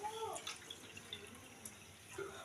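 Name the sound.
water being poured into a pot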